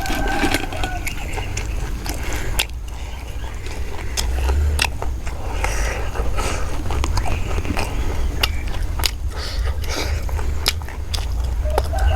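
Crispy fried Thai pork leg being bitten and chewed near the mic, eaten with spicy papaya salad: steady crunchy crackles and sharp bites repeating throughout over a constant low background rumble.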